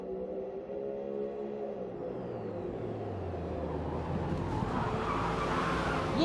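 Race cars in a sim racing Le Mans event, one running side by side with a BMW toward a fast corner: engine notes drop in pitch as they pass, joined by tire squeal and rising road noise, moderately close.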